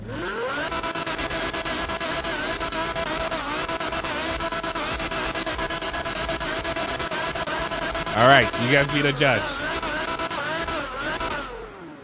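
A sports car engine revs in GTA 5, a loud, steady high drone with a sharp throttle blip near the end, and a brief spoken remark in the middle.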